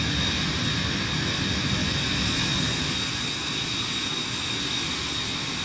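A single-engine Cirrus Vision Jet SF50 roars steadily in flight in Microsoft Flight Simulator, a constant broadband jet rumble and hiss with no breaks.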